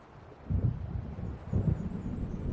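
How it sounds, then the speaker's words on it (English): Deep rumbling thunder and gusting wind of an approaching storm in Alan Wake Remastered, two heavy low swells rolling in over a steady windy background. "It seems there's a storm coming"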